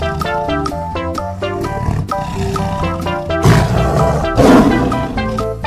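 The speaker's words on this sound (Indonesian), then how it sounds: "lihat, ada harimau." A toy animal's recorded tiger roar plays loud and close over a looping electronic tune, building into a fierce, rumbling roar partway through.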